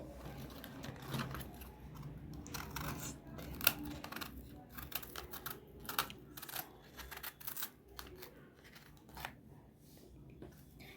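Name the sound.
knife cutting hard cabbage leaf stems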